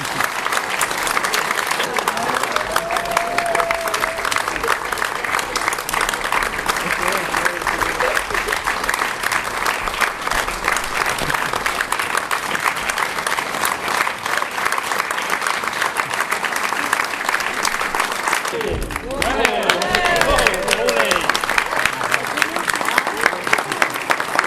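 Sustained audience applause fills a theatre at the close of a French stage comedy, dense steady clapping from a large crowd that swells briefly with cheers near the end.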